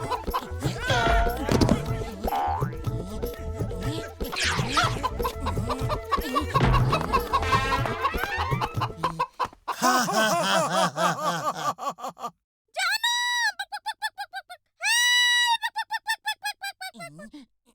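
Busy background music gives way to a few sharp, high clucking calls from a cartoon chicken in an animated show, set in short bursts with gaps of silence between.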